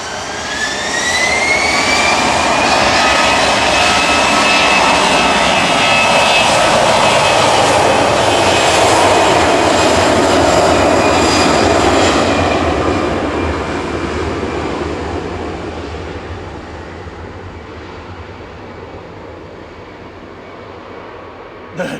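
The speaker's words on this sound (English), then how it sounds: "EasyJet's OE IJQ going to Faro now, flight 7502" An EasyJet airliner, registration OE-IJQ, departs Manchester Airport for Faro. A powerful, close jet engine roar with a high whine builds and holds, then slowly fades into the distance.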